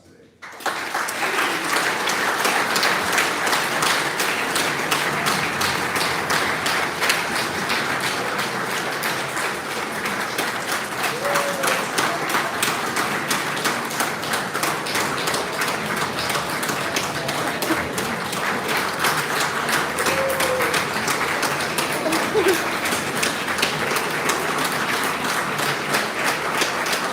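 A large commencement audience gives prolonged, steady applause for school staff and faculty, a dense roar of clapping filling a big venue, with scattered voices and occasional cheers mixed in.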